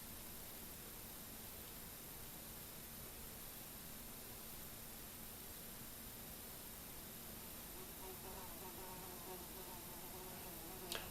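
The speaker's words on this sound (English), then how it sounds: "Oh, it's a fly. I thought it was a bee." A housefly buzzes close to the microphone indoors, a steady thin drone over background hiss for several seconds.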